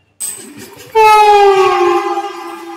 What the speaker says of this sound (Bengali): পাশে দিয়ে এখন যাবে 12819 উড়িষ্যার সম্পর্কক্রান্তি এক্সপ্রেস